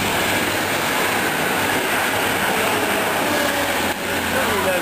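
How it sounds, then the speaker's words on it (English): A train rumbles steadily past at close range, a loud continuous roar of wheels on rails with faint rattling and no pauses. "That is not the train that we are taking."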